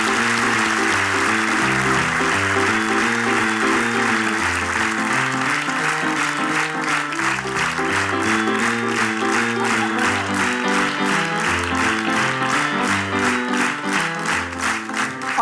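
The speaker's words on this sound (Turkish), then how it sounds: "Kraliçeyi alkışlat." An audience claps for the queen on a Turkish TV show, in rhythmic, steady applause over loud music that runs throughout.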